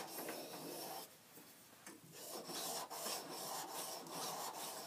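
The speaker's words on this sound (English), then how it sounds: "Same thing with the finer grit on the India stone." A plane iron is rubbed back and forth on a fine India sharpening stone, making a continuous close scraping, gritty rasp with brief pauses between strokes.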